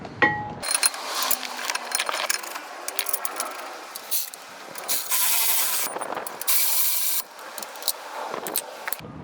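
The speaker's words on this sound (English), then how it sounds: "tightening up the bolt" A ratchet tightens the brake caliper mount bolt on a 2011 Toyota Sienna. Close, rapid clicking comes in bursts, mixed with metallic scraping and rubbing, and no talk.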